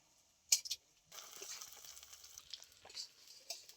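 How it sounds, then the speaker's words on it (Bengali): Pumpkin leaf fritters coated in lentil batter frying in oil on a gas stove, a soft steady sizzle and crackle after a few sharp clinks near the start, moderately faint and without talk. "আর এখানে এখন ভাজা হচ্ছে"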